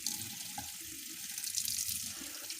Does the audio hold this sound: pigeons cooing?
no